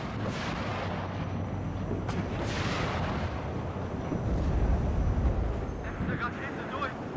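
Artillery in the WARNO real-time strategy game firing, a run of deep booming blasts and rumbling impacts over wind-like noise, with someone talking over the gunfire.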